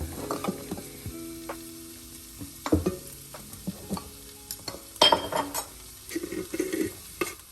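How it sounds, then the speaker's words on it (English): Chili powder and coriander powder are stirred into an idli mixture in a pan, with scattered scrapes, clicks and knocks of the utensil over a faint sizzle, close and irregular. "So I will mix this all"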